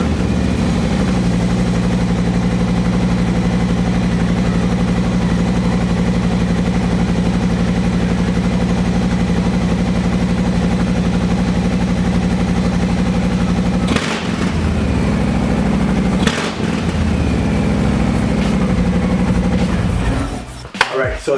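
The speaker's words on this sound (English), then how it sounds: "I'm gonna give you guys a sound check of what the sound, what the bike sounds like now with the Vance & Hines slip-ons" A 2020 Harley-Davidson Low Rider S with Vance & Hines slip-on exhausts idles steadily with a deep, loud, lumpy rumble, broken by two short sharp throttle blips late on and a final rev.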